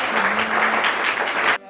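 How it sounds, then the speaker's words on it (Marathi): Group applause from participants at an acting workshop, a dense, steady burst of many hands clapping together for about a second and a half before cutting off abruptly. "ओके, टाळ्या वाजवा सगळ्यांनी."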